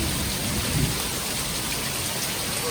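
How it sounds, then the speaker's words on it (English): Heavy rain pours down during a nighttime storm with hail striking a house, a steady dense hiss of drops with no voices, holding an even level throughout. "Sure enough, another storm was rolling through."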